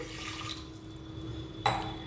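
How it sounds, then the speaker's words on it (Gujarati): Water splashes briefly into a metal pressure cooker with a soft pour near the end, following a quiet kitchen hum. "હવે આપણે એક કુકર લઈ લીધું છે તેની અંદર આપણે પાણી નાખીશું"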